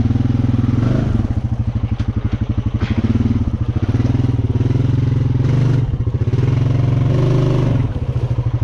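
Dirt motorcycle engine labouring at low throttle through sticky clay, a loud, steady, close thudding drone with uneven pulsing and brief surges, running throughout.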